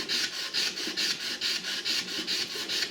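Sandpaper rubbed by hand along a one-inch-wide stainless steel knife blade, with steady back-and-forth rasping strokes about twice per second, close and fairly quiet, with no voices.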